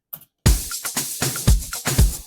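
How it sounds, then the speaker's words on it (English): A simple shaker loop cycles beside a punchy low kick in an Afro House beat, short rattling strokes ticking in a steady, bouncing groove after a brief pause. "Also a simple shaker loop again,"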